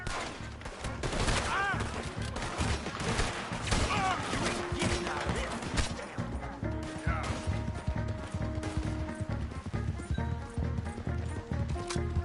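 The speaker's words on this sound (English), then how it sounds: "Now, open fire!" In Red Dead Redemption 2, a gunfight rages with rapid shots and crashes over the clip-clop of horse hooves and an occasional whinny, loud and busy throughout, with voices speaking amid the action.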